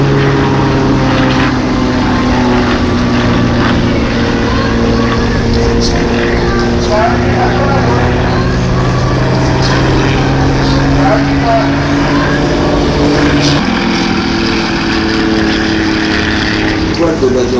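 Propeller aerobatic planes, including a Pitts S2B and a more powerful 415-horsepower aircraft, fly at the Villeneuve-sur-Lot air show, a loud steady engine drone with shifting pitch throughout, with a commentator's voice over it.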